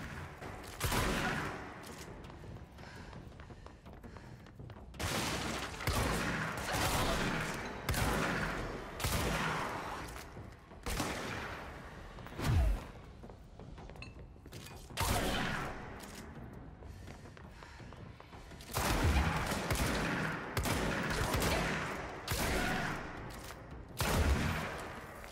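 Shotgun-form service weapon firing pellets in the video game Control, repeated heavy blasts in rapid clusters with short pauses between volleys, loud and close over a rumbling background.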